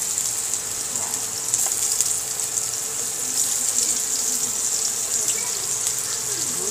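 Ginger frying in hot cooking oil for a Filipino ginataang tilapia, a steady close hiss and sizzle that runs unbroken throughout, with faint clinks now and then.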